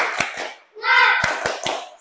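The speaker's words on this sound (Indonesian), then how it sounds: "tepuk semangat" A class of fifth-grade children performs a rhythmic spirit clap, crisp hand claps in a quick pattern mixed with their chanting voices in a classroom.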